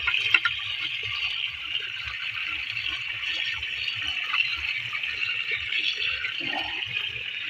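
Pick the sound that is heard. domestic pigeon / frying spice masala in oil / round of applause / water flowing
water flowing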